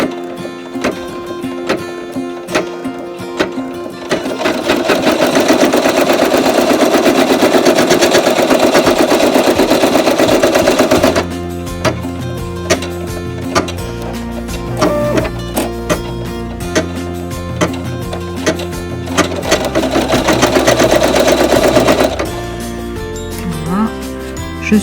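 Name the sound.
embroidery machine stitching on faux leather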